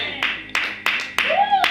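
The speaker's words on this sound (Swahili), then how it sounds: "Makofi kwa ajili ya Yesu, sio Alista" A church congregation claps for Jesus during a worship service, with sharp, spaced claps falling in a rough beat under a speaking voice.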